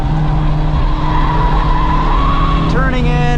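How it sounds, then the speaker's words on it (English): Honda FL5 Civic Type R braking hard on a track, a loud steady engine drone that drops in pitch with tire squeal near the end. "Over the hill, gonna lift, hard on the brakes"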